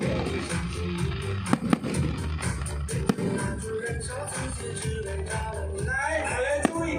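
An aerial fireworks display crackles continuously, broken by several sharp, loud bangs at uneven intervals, with faint background voices underneath.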